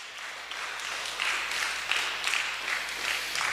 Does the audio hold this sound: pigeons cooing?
no